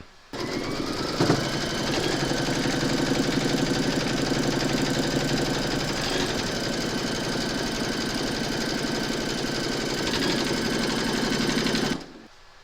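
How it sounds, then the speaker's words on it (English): An embroidery machine sews a securing round on a four-leaf-clover coaster in its hoop, with a steady, close mechanical hum and rapid needle chatter running continuously for about twelve seconds before stopping. "Pop your hoop into your machine and stitch round number 3 to secure it."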